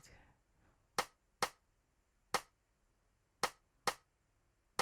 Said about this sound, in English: there's one more rim shot I can't really find